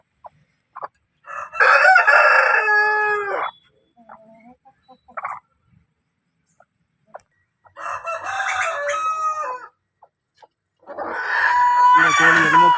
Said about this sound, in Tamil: இந்த கோழி எதுவுமே பண்ணுறான்னு வந்து பார்த்துக்கிட்டு இருக்குது.